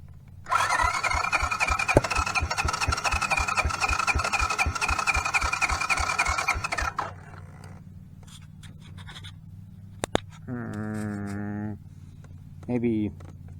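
A Honda Big Red ATV engine runs loud and rough for about six seconds with a steady pulsing beat, then cuts out, followed by quieter clanks and two brief tonal whines.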